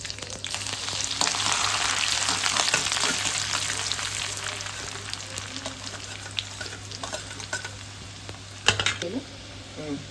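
Curry leaves, onion and garlic fry in a pan with a dense, bright sizzle that is loudest early and eases off later, with a few sharp clatters of stirring near the end.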